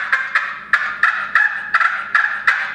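A turkey box call rasps out a series of raspy yelps, about nine in steady rhythm, loud and close with no voices.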